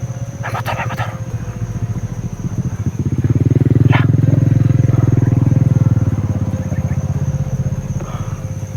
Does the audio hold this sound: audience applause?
no